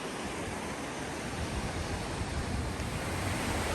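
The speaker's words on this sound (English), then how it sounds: "The water is literally coming out of that rock." Water pours steadily out of a rock on a desert canyon trail, a constant rushing hiss that stays even and close throughout with no voices.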